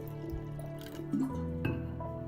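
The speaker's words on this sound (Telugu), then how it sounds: "ఇప్పుడు మళ్ళీ ఈ పప్పులో వాటరు బౌల్లో సగం వరకు పోసుకోవాలి." Water is poured into a bowl of soaked lentils for a puran poli filling, a soft trickling and splashing against faint background hum, with a couple of small clinks.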